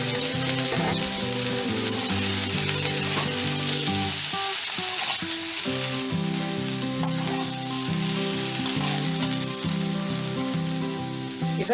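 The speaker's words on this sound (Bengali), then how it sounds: "আর ঝিঙেটা দিলাম, একটু নাড়াচাড়া করবো।" Ridge gourd and other vegetables with neem leaves frying for shukto, a dense steady sizzle with an underlying hum and occasional soft stirring, close and even throughout.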